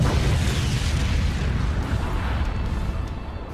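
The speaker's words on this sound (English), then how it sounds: "That is one big explosion." A huge anime explosion from Dragon Ball roars as a continuous, loud, deep rumbling blast that fades slightly over a few seconds.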